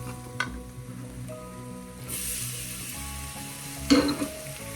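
Tomato being stirred into a Kerala-style chempalli (big-eye snapper) fish curry in a pan, with a steady sizzle, soft scraping stirs and a brief louder clatter near the end, no talk.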